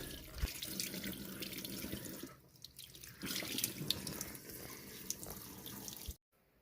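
Steady running water splashing from a tap into a sink for several seconds while rinsing a Dyson DC17 Animal vacuum filter, then it cuts off abruptly.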